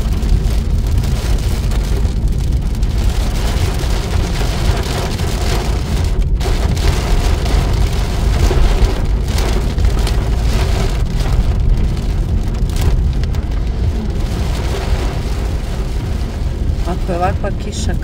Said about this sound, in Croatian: Ako je ovakva kiša kroz Sloveniju, šta će onda biti kroz Austriju?